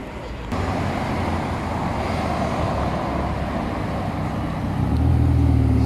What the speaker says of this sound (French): C'est encore plus beau quand ça roule une Ferrari.